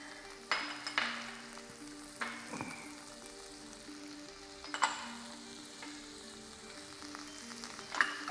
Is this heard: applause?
no